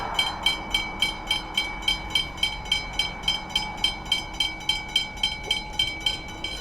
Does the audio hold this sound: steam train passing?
yes